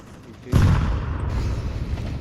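A grenade detonates in Counter-Strike 2 with a single loud, heavy boom whose low rumble rolls on and slowly fades over the next couple of seconds.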